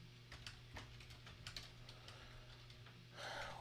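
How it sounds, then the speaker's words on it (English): Quiet, irregular clicking of computer keyboard keys in a steady run of taps, close but soft. A brief rustle follows at the end, and nobody speaks. "This is so much typing."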